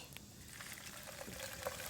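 Cold creek water pours into a pot of herbs for a decoction, a short close splashing and trickling that swells slightly toward the end, with no talking.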